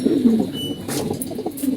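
Pigeons cooing nearby, low throaty murmurs repeating over a soft background rustle, fairly loud and close.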